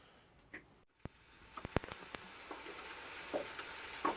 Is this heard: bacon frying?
yes